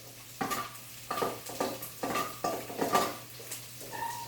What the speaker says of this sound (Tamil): இது எல்லாத்தையும் சேர்த்துட்டு இதனுடைய பச்சை வாடை போற வரைக்கும் நல்லா வதக்கணும்.